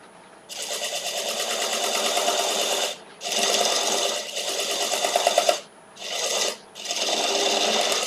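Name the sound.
gouge cutting a wood burl on a wood lathe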